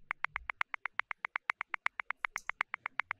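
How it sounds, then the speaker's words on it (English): Afro jazz bongo groove loop for a melodic techno track, a steady run of sharp, evenly spaced hand-drum hits with a light swing, close and dry, playing alone. "So I had this Afro jazz bongo,"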